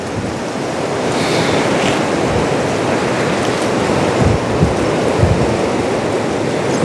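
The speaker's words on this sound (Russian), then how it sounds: "ветер гуляет" Seaside wind at Anapa, blowing steadily through tree crowns and mixing with a broad wash of surf, a loud, continuous noisy roar with occasional low gusts buffeting the microphone and no speech.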